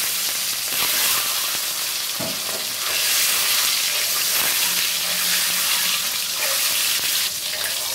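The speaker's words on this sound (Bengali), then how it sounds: "ডিম ভাজা হয়ে গেছে, ডিমগুলো তুলে নিব।" Peeled boiled eggs coated in turmeric and salt fry in hot oil, giving a loud continuous sizzle with bubbling crackles and occasional stirring scrapes throughout.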